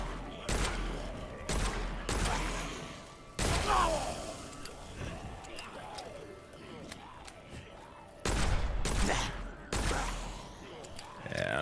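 Repeated heavy hand cannon shots in the first-person shooter game Witchfire, loud sharp blasts in irregular bursts with brief gaps between them and game ambience in the pauses.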